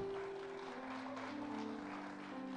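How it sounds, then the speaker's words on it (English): A church congregation claps together during a Sunday service, with a steady wash of applause over sustained tones that sound like music playing underneath. "Can we give God a big clap offering?"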